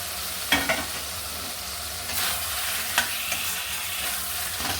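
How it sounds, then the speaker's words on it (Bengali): Potatoes and wild taro from Odisha tip into a spice paste frying in oil for a Bata fish curry, sizzling steadily with a few scraping stirs and clatters close by. "এখন আলু কচুগুলো এবার ঢেলে দিচ্ছি।"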